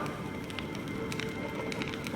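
Fire crackling in the video game Honkai Star Rail, a steady soft bed of pops and snaps, faint and continuous with no voices.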